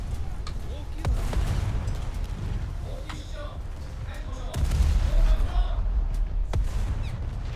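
Gunfire striking a player's destroyer in the naval battles of War Thunder: scattered heavy booms and sharp impacts over a low rumbling ship drone, with a louder burst midway and a voice speaking in places.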